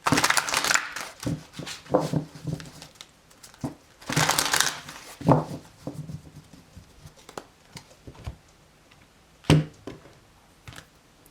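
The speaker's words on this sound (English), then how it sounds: "a couple more shuffles" Bursts of papery riffling and soft slaps come in uneven clusters as tarot cards are shuffled close by, with quiet pauses between.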